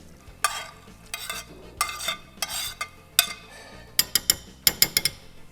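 A utensil stirs fish soup with vegetables in a pot, wet swishing strokes and scraping in slow sweeps, followed by a quick series of sharp clinks against the pot's rim, close up with no talking.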